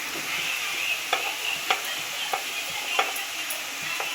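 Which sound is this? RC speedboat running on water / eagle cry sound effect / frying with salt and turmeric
frying with salt and turmeric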